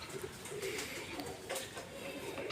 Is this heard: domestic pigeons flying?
yes